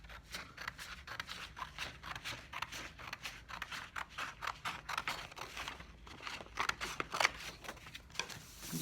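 Scissors cut through paper in a steady series of short crisp snips and crunches, close and fairly quiet.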